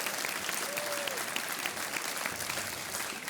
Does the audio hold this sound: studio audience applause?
yes